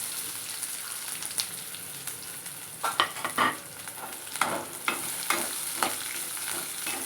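Chopped onions sizzle quietly in hot oil, with several louder bursts of scraping and stirring in the pan partway through.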